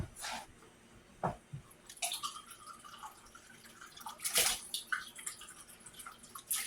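Water pours into a measuring cup and splashes in short bursts with a few drips between, close by and fairly quiet, with no talking.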